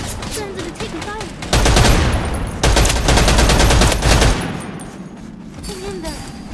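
Gunfire in the video game Wild Assault, with scattered shots giving way to heavy, loud automatic bursts in the middle before easing back to sparse fire, with brief voice sounds at the edges.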